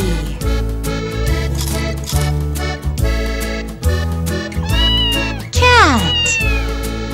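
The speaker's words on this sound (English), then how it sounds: "Cat." A cat meows several times over background music, the calls rising and falling, with one louder, drawn-out meow near the end.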